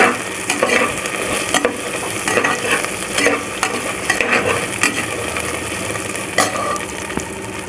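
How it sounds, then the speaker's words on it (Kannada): Byadgi chillies sauté in hot oil for mushroom biryani, a loud close sizzle with repeated scraping and clattering stir strokes against the pan at an uneven rhythm, with no talking. "ಬ್ಯಾಡಗಿ ಮೆಣಸಿನಕಾಯಿ ಒಂದು 8 ರಿಂದ 10, ಇದನ್ನೆಲ್ಲ ಸ್ವಲ್ಪ ಬಾಡಿಸ್ಕೊಬೇಕು."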